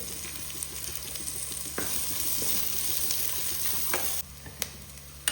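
Steady oil sizzle of onion and curry leaves frying with mustard seeds close by, with a few soft stirring clicks and scrapes; no voices.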